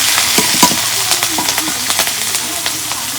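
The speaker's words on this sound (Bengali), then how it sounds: "কড়াই ভাই দিই তরকারি রান্না করতে নিকে গরম হয়েছে আমি মশলা দিয়ে দিব পেঁয়াজ কুচি কাঁচা মশলা" Chopped onion and raw spices hiss loudly in a hot wok, a steady close sizzle with quick stirring scrapes ticking through it.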